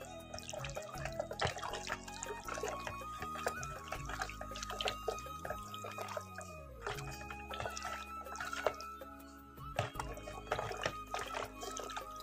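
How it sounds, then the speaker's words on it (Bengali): Dried loitta fish are washed in warm water in a kitchen, with soft splashing, dripping and trickling water, close and fairly quiet, continuing throughout with no talk. "এরকম করে তোমরা একটু গরম জলে ধুয়ে নেবে।"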